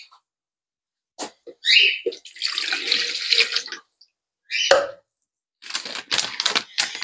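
Cold water poured into a bowl for protein bread dough, coming in several splashing, hissing bursts separated by short silences, close by.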